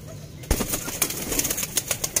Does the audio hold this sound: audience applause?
no